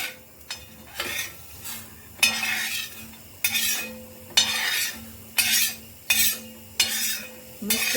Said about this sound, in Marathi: आता हे जिन्नस भाजलेले आहेत तर आपण काढून घेऊया